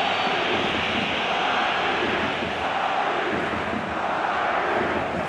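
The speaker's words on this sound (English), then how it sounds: "Crowd appreciates good football all round there." A stadium crowd in the Pro Evolution Soccer 2016 football video game roars in a steady, dense wash of cheering that holds loud and unbroken throughout.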